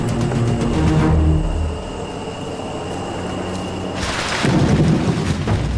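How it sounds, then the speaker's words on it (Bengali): Thunder rolls during a monsoon storm in the Panama jungle, a long deep rumble that fades midway and then swells again with a sharp crackling burst, loud and near over steady rain. "আর এই বাজ পড়ায় অবস্থা আরও খারাপ।"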